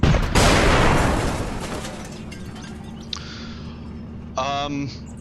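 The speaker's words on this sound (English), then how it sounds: "if I click the left mouse button, that's an order for him to fire." A tank gunner in a video game fires at a target, one loud boom rolling off into a fading rumble, followed by smaller mechanical clanks and a short electronic burst.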